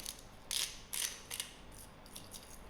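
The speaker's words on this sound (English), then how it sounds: "we'll adjust the grind of pepper and some salt" Pepper grinder cracking peppercorns in a kitchen, a few short, faint ratcheting bursts of grinding with pauses between them.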